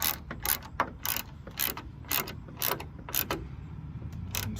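A ratchet tightens the bolt of a Dee Zee tailgate assist on a truck, clicking in about nine short, evenly spaced bursts close by.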